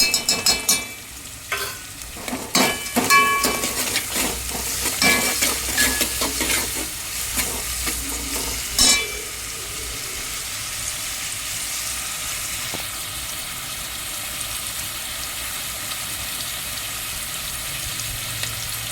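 Onions frying in a pan with salt for prawn biryani, a spoon scraping and stirring busily over a steady sizzle, the stirring stopping midway and leaving a quieter continuous frying hiss.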